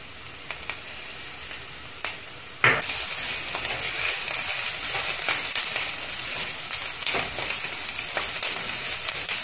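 Onions sautéing in a hot pan for mushroom soup, a continuous bright sizzle with occasional stirring scrapes and a sharp clink, close and steady without talk.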